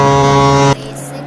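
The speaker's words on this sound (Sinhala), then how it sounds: "මේකේ ටර්බෝ සවුන්ඩ් එකක් වෙනස් වෙලා තියෙනවා කලින් තිබ්බ එකට වඩා ගොඩක් වෙනස්" Car engine with turbo in the Driving Simulator Sri Lanka racing game, a loud steady droning hum that cuts off abruptly partway, followed by quieter background sound.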